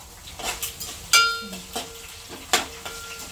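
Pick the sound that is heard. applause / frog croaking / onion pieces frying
onion pieces frying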